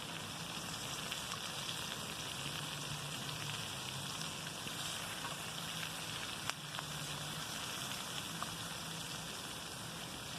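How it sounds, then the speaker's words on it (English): Food sizzles and crackles while cooking at an outdoor picnic, a soft continuous frying hiss with faint scattered pops. "Just enjoying the sizzling yumminess."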